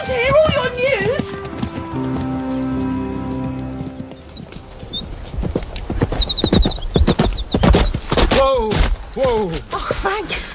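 Horse hooves clip-clopping as a rider comes in fast, rapid rhythmic thuds under music and voices speaking.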